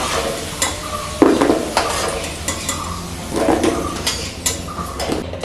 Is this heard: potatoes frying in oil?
yes